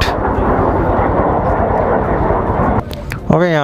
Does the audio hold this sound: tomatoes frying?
no